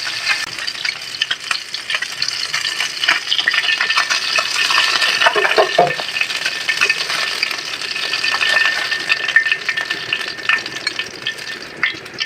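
Spice mixture for taki fish bhorta frying in oil while being stirred in a pan. It makes a loud, continuous sizzle with scraping and clinking from the stirring, close by, and nobody speaks.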